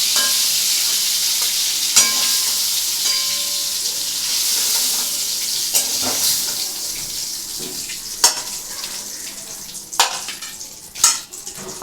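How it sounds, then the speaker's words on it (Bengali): Pieces of snakehead fish sizzle steadily in hot oil, with a few sharper clinks and scrapes near the end as they are lifted out one at a time; no one speaks. "বন্ধুরা দেখো, মাছগুলো কিন্তু ভাজা হয়ে গেছে, এগুলো আমি একটা করে করে তুলছি।"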